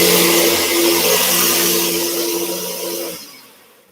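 The motor of a rare old Bissell Plus vacuum cleaner runs with a loud, rough whirring drone, then winds down and cuts off near the end.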